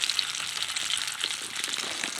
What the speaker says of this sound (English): We are frying our catfish we caught.